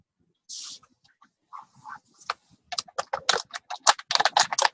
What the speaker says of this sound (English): I can hear you typing now.